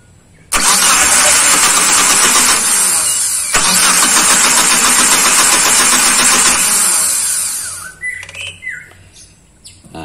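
A car's starter motor cranks the engine continuously for about seven seconds, loud and close, ending with faint rattles and small noises; the engine was stalling on hills and would not restart.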